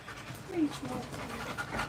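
A husky pants in close, rhythmic breaths while resting in a lap, as voices talk over it.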